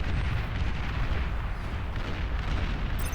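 Dense artillery and Mauser unit fire from the Beyond All Reason strategy game, a continuous loud roar of overlapping booms and blasts with no pauses, heard alone without talk.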